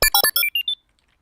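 Short electronic game beeps from a bouncing-ball video game being built during a game jam, about six quick tones stepping upward in pitch, then silence.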